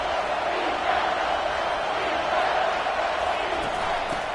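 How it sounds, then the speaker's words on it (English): A stadium crowd at an American football game roars in a steady, dense wash of noise on third down, loud and sustained throughout without distinct breaks. "Third down, and this crowd is tearing the lid off this place."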